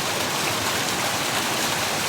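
Clear forest stream water rushes and splashes in a steady, dense hiss, close and unbroken for the whole stretch, with no voices over it.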